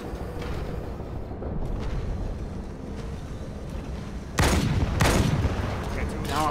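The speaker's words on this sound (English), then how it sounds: "There's a sniper shooting at you." Sharp sniper rifle reports from Jackal snipers in Halo 2 on Legendary difficulty, two loud cracks close together near the end over a steady bed of wind-like ambient noise and muffled game sound.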